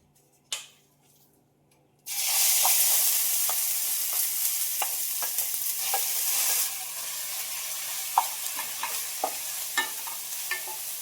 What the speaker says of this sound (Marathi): कढई चांगली गरम झालेली आहे तूप गरम झालेला आहे मी जे गाजर किसून ठेवलेलं आहे तर आता हे टाकून घेते मी